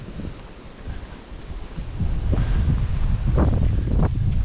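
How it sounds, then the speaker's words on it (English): Gusty wind buffets the microphone at a campsite among trees near Ebor, New South Wales, a rough low roar that swells and strengthens partway through, with rustling in the background. "Because it's so windy, I was a bit worried about trees blowing down on us."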